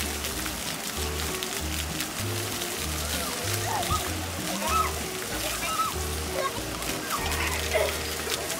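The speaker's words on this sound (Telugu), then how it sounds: "వాటర్ కింద నుంచి వస్తుంది, పిల్లలందరూ ఆడుతారు." Water splashes and sprays steadily at a park splash pad where children play, a busy wash of sound with distant kids' voices and adults talking over it.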